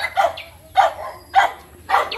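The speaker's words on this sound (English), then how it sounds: "So that the dog will not run after us." Dog barking outdoors in a rural Philippine setting, four separate loud barks spaced evenly about half a second apart, fairly close with a low hum underneath.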